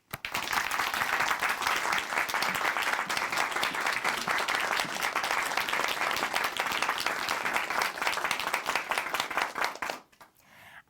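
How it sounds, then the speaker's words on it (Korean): Studio audience in a church television program breaks into crisp, dense applause that holds steady for about ten seconds, then cuts off abruptly into near silence. "큰 박수로 맞이해 주세요."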